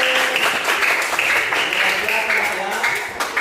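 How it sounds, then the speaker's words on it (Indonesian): Students in a classroom clap for Alex, a brisk burst of applause from a small group, fairly close and even, fading slightly at the very end. "tepuk tangan buat Alex"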